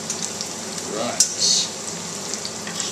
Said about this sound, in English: I'm just going to stir these through, get them nice and browned and mix mix in the garlic.